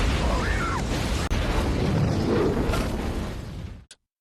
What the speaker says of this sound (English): The next morning, everything explodes.